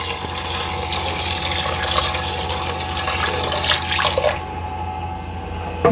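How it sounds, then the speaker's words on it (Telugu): Water poured from a tap-like stream into a pressure cooker for homemade haleem, a continuous close gushing and splashing that runs steadily and eases off near the end. "ఇప్పుడు ఇక్కడ కూడా కొంచెం వాటర్ ఎక్కువే పోసుకోవాలన్నమాట."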